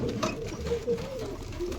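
Pigeons coo softly at a pigeon loft, several low rolling coos that overlap near and moderately loud, with faint background rustling and no clear talk.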